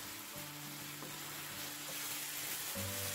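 A large red pepper sweating in a hot pan for an Italian-style meatloaf gives a steady, close sizzle with a few soft stirring knocks, growing slightly louder toward the end, with no voices.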